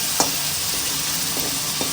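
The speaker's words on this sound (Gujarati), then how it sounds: "તો ડુંગળીને આપણે શેકાવા દઈશું" Ground onion with a pinch of asafoetida frying in a pan for a potato dish, giving a steady close sizzle broken by a few soft scraping clicks of stirring.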